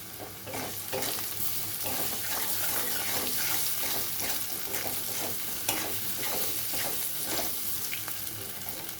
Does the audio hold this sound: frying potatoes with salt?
yes